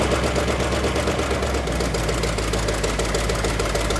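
An old high school car, revived after twelve years off the road, runs at a steady idle with a rough, knocking mechanical rhythm that stays loud and constant throughout, with no talking.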